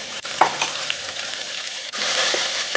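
Onions and tomatoes sizzle in a hot pan for Tamil Nadu-style sambar, a brief, close crackle broken by a couple of stirring scrapes and knocks.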